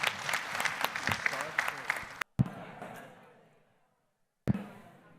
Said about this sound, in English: let's give our panelists a round of applause